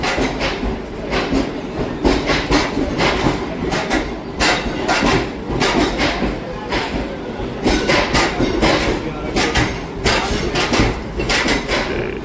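A Lucknow–Chandigarh Express coming in from Prayagraj rolls along the platform at Ambala Cantt railway station, with a steady loud rumble and repeated clattering wheel clacks over the rail joints throughout.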